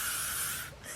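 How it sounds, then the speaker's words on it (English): Elnett hairspray sprays onto hair in a single steady, close hiss that fades slightly near the end. "I'm just going to spray some Elnett"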